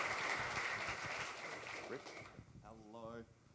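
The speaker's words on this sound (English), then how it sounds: "Round of applause." An audience at a hardware hacking conference claps after a badge hacking talk, fairly loud at first and fading over a couple of seconds before a voice speaks.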